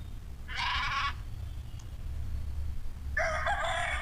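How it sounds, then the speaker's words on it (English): A rooster crows twice, two loud, close cock-a-doodle-doo calls separated by a short pause, alone against a low background rumble. "rooster. Murga, murga."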